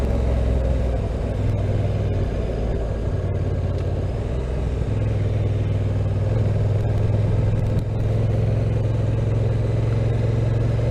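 A Honda NT1100 motorcycle engine braking in sports mode, a steady low rumble and drone that holds at a constant level throughout, close and loud with wind noise and no talking.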